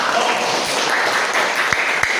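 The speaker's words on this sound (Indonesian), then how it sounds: "Silakan tepuk tangan untuk kalian." Classroom applause from schoolchildren, a continuous wash of clapping with a few sharper individual claps standing out near the end.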